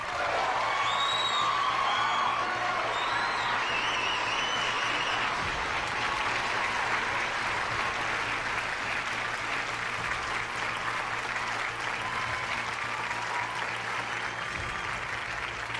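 A rowdy, drunken crowd at a darts exhibition night, a continuous roar of clapping, cheering and whoops that fills the room steadily and stays loud throughout.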